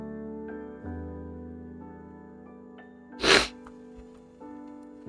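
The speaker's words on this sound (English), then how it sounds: "I'll sneeze again." A single close, loud sneeze from a person with allergies, a sudden sharp burst against a quiet background of sustained musical tones.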